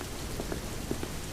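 Steady rain falls on the ground, a dense, even hiss of drops with a few slightly louder patters, alone and fairly close throughout.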